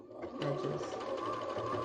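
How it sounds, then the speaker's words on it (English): A sewing machine stitches cotton fabric for mask making, a close, steady mechanical whir and rapid needle patter running continuously, with a brief word spoken at the start. "I think my sewing machine's going to be happier with me using cotton"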